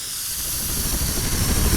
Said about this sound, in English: I just spray painted the ragdoll.